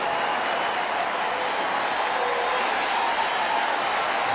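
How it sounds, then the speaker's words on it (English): A baseball stadium crowd applauds a departing pitcher in a steady, dense wash of clapping that holds at an even level throughout, without voices on top. "Big round of applause, and deservedly so, for Matt Thornton."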